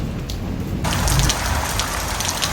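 Heavy rain pounds down in Greece, a dense, continuous roar of drops drumming on a surface close by, with a low rumble swelling briefly partway through.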